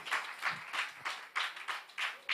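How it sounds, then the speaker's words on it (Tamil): Audience applause at a Sri Sathya Sai birthday celebration in a Chennai hall, a steady patter of clapping hands from a small crowd, moderately loud with bursts rising and falling. "எல்லாருமே வந்தவங்களுக்கு ஒரு பெரிய ஒரு கைத்தட்டல்"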